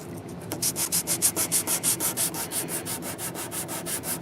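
Sanding wood on an Emerson 628 radio cabinet to level a filled void, a rapid rhythmic back-and-forth rasp of about twenty even strokes, close and steady with no talking.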